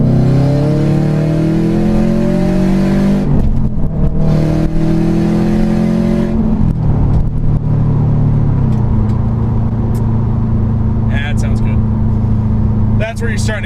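A 4-cylinder car with an exhaust lacking a mid-pipe or resonator revs hard, its raspy engine note rising and falling in repeated pulls, loud and close throughout.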